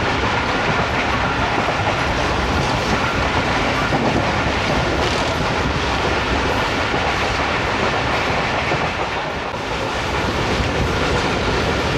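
Riding aboard the Karakoram Express between Lahore and Khan at speed, a dense, loud, continuous rumble of wheels on rail fills the cabin with rapid clickety-clack, briefly easing near the end before resuming.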